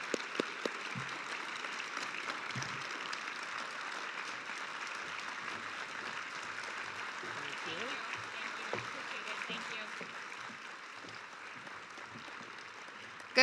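An audience at the 2021 Future Ready Iowa Summit applauds Governor Kim Reynolds with a sustained, even crackle of many hands clapping, steady throughout and fading slightly toward the end.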